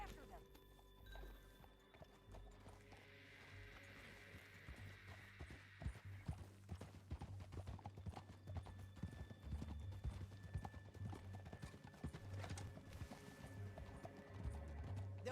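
Rapid rhythmic hoofbeats of a galloping horse in Red Dead Redemption 2, close and continuous, with a brief whinny early on and a steady low rumble underneath.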